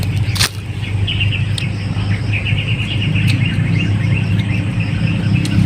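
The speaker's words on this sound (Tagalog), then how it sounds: "Daming ibon bro." Many birds chirp and twitter in a forest, with bright repeated calls scattered over a steady low rumble of a vehicle engine nearby.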